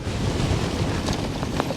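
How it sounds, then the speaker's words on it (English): Steady, heavy wind buffets the microphone while riding an e-mountain bike, a loud continuous rumbling roar with no voices. "the wind's in my face, and it's getting really windy now"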